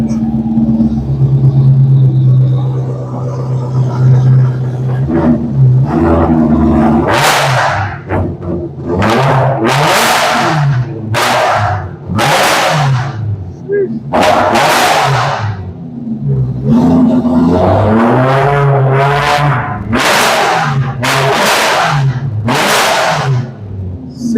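A car with a muffler delete and X pipe revs hard, loud blasts of engine roar rising and falling over a rumbling idle, close to the microphone with no talking.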